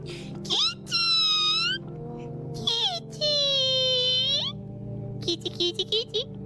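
Several drawn-out, rising-then-falling cat meows with wavering pitch from the horror video game No, I'm Not a Human, loud and close, over a low steady game ambience.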